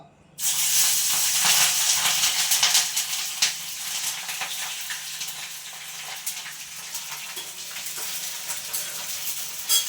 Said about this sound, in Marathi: मी मिरच्या तळतोय